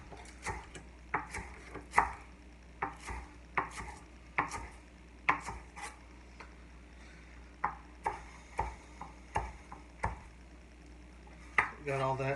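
Jalapeño and serrano peppers and onion are chopped with a knife on a board, steady rhythmic thuds at close range about every half second, with faint background sounds between strikes.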